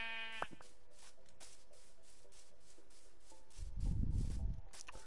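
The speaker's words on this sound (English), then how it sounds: "So we need to make sure we kill some sheep first." Sheep bleat in the video game Minecraft, soft thin calls over quiet game ambience, with a brief louder low rustling thump near the end.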